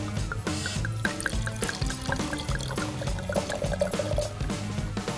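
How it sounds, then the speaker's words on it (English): Wine poured from a freshly opened bottle into a proper glass, giving a close, steady liquid gurgle and trickle that fills the glass without pause, with a faint background hum. "the way that the wine pours into a nice, proper glass"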